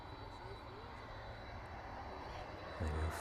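A jet aircraft's engines roar steadily at a distance as it climbs away after takeoff from East Midlands Airport, heard faint and unbroken.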